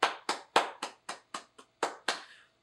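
Eight crisp, evenly spaced hand claps ring out close and alone, a single person's short round of applause that fades after the last clap.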